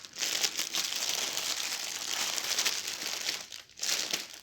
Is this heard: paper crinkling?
yes